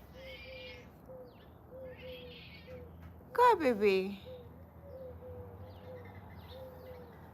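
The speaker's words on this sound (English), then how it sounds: "I don't know if you guys can hear the owl howling" A faint, steady owl hoot repeats at night in the background beneath someone talking, and a short, louder bird-like call briefly rises over it.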